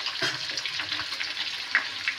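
Potatoes seasoned with turmeric and salt fry in a pan, giving a close, steady sizzle with soft crackles and a few brief spits, and no talking over it.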